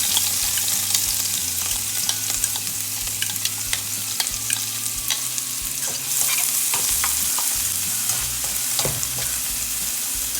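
Onion and sweet pepper frying in oil for Jamaican-style turn cornmeal, a loud continuous sizzle with scattered crackles and occasional stirring clatter, no talking.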